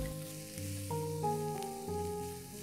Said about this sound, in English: Fry all the veggie with pork belly until you can smell a delicious fragrance.